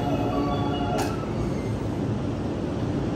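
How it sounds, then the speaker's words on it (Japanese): An E231 series 500 commuter train pulls out of Funabashi station, a loud, continuous rumble of wheels and motors on the rails with a brief high squeal early on, heard close from the platform without speech. "1番線三鷹駅発車いたします。"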